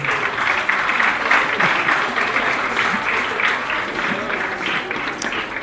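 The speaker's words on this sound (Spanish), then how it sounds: "Un aplauso, por favor, para el doctor." An audience at a panel forum on poverty applauds a doctor being introduced, giving moderate, continuous clapping from a roomful of people with faint murmuring voices underneath throughout.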